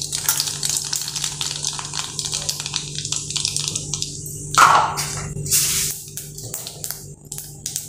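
Mustard seeds tossed into a small amount of hot oil for tempering, crackling and sizzling steadily throughout with a sharper burst of pops midway, close and fairly loud with no talking.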